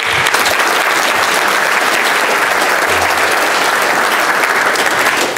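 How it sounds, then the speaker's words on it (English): A conference audience applauds to welcome a presenter at a talk on a dynamic Python compiler, with dense, steady clapping from a large crowd holding at an even level throughout. "give them a very warm round of applause"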